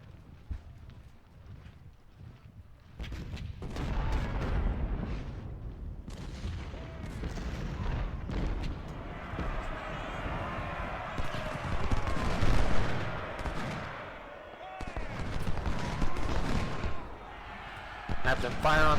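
Cannon and rifle fire in the Civil War strategy game Ultimate General: Civil War, with repeated booms and crackling volleys rolling over a dense battle din, alongside a voice talking throughout.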